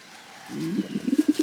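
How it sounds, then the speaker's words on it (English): Bird held after being pulled from bushes, giving a short run of soft, low cooing calls that quicken and grow louder near the end, close by. "reached into the bushes and pulled out this bird"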